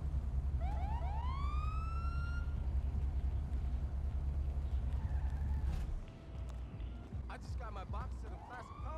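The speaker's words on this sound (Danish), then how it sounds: "Der er sirener, mand." A police car siren wails in GTA 5, rising sweeps that repeat for a few seconds at moderate distance over a loud low engine rumble, then a burst of a different siren tone near the end.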